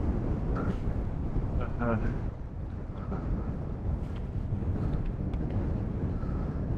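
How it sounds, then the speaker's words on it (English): Heavy wind by the sea in the west of Ireland buffets the microphone with a loud, rumbling roar throughout, while faint voices talk underneath. "It's extremely windy."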